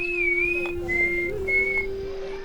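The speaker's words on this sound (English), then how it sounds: "Some people in the Americas can communicate by whistling." A clear, tuneful whistle of sustained tones that rise, dip and hold, phrased in short segments like a spoken pattern of whistled communication from the Americas, over a low steady drone.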